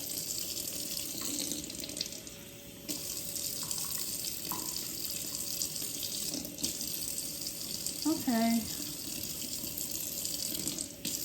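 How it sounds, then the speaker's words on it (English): Quiet, steady hiss of water running from a tap, with a brief spoken word partway through. "I'm gonna add a little bit of water at the bottom"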